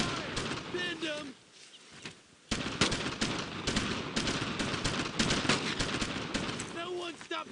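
Sustained World War II infantry gunfire in a battle video game, dense rapid shots and bursts continuing after a brief lull, with shouted voices of soldiers calling out over the firefight.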